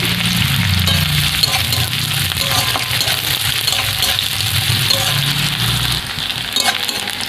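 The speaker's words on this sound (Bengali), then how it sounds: "এখানে কুচিয়ে রাখা পেঁয়াজটা দিয়ে ভেজে নেব লাল লাল করে।" Chopped onions fry in hot mustard oil in a wok, a loud, close sizzle overlaid with repeated scraping and clinking as a spatula stirs them. The stirring strokes come irregularly over the steady hiss, and no one speaks.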